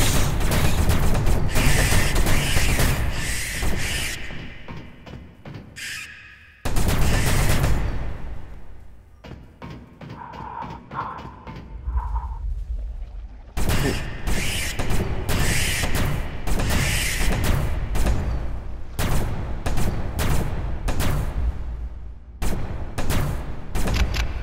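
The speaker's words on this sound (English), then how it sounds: "The SMG has got quite a lot of spread, it's not that good at medium to long range, it's good at short range." Submachine gun fire in the sci-fi shooter CDF Ghostship, loud rapid bursts repeated across the stretch with short gaps between volleys, plus mechanical clanks and weapon handling noises.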